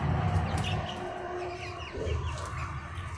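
Twenty-three-day-old chicks peeping and cheeping in a brooder pen, a continuous soft chorus of overlapping high calls with some low clucking close by and no talk.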